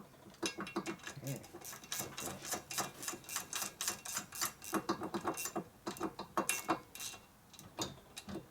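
A hand ratchet clicks rapidly in repeated bursts while loosening and tightening bolts on a 1983 Harley-Davidson FLTC 80 ci shovelhead motor during a rebuild, close and fairly loud, with occasional brief pauses and some voices.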